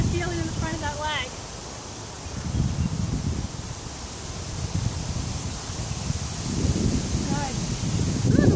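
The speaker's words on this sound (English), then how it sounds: "the wind is blowing here" Gusty wind blows outdoors during a rainy workout session, a steady broadband rush that swells and fades, with a voice talking faintly over it at the start and near the end.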